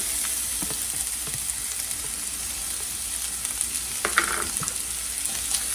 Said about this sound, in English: We're basically stir frying this.